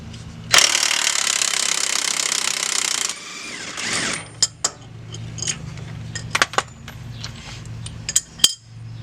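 Impact wrench with a 21mm socket rattling loose a rear shock bolt on a Chevrolet Traverse, one harsh hammering burst of about two and a half seconds, then scattered metallic clinks and taps.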